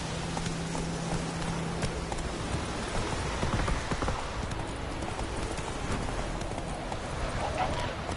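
Horse hooves clip-clopping in the video game The Witcher 3, a brisk, steady rhythm of hoofbeats on the ground, moderately close, under light ambient rain and background noise.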